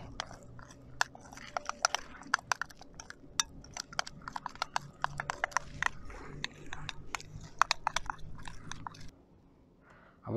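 Tandoori masala being mixed with lemon juice and salt in a bowl, a run of close, quiet squishy scrapes and clicks of a spoon with an irregular rhythm before it falls almost silent.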